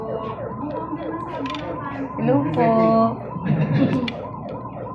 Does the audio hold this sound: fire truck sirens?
yes